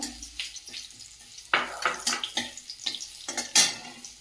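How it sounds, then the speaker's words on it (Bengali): Bay leaf dropped into hot oil for taro stem dal, giving a bright crackling sizzle with a few sharp spits and pan clatters over a steady frying hiss, close and fairly loud. "এটা অ্যাকচুয়ালি ডাল রান্না করছি কচুর ডাল আর দিয়ে দেবো তেজপাতা"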